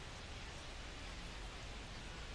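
Steady, dense rain hisses evenly over a baseball video game, a constant wash of falling water with no breaks or voices.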